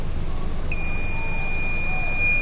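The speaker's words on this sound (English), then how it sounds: "There's my taking too long alarm." Automotive battery load tester sounds a loud, steady electronic alarm beep that starts abruptly and holds continuously during a 300-amp cranking test on a failing lead-acid battery.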